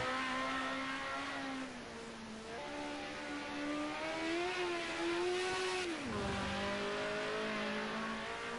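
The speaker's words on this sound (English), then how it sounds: "There is Slider Gas in the number 66 car." A Group A touring car in a sim racing game at Bathurst, its engine droning loud and steady, pitch rising through the gears with a sharp drop around a shift and a brief tire squeal, with no talk.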